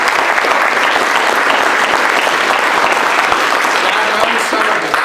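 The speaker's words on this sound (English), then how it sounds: "Let's give him a round of applause." An audience at a cyber security conference applauding, a dense, steady wash of clapping that stays loud and continuous throughout.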